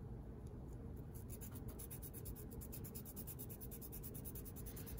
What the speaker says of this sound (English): take a piece of sandpaper, kind of fold the end like that, and move it back and forth inside there